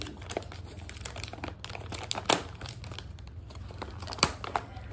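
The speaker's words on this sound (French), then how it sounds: "Je vais ouvrir des deux côtés par précaution." Tape and packaging being pulled open around a shipped Epipremnum pinnatum Marble plant, close crinkling and rustling with sharp tearing bursts, fairly quiet and steady, no talking.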